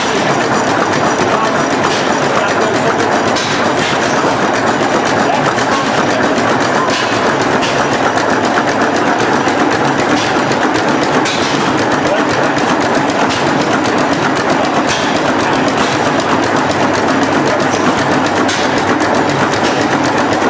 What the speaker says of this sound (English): This is a nice engine here, an Atlas. It's like a marine engine.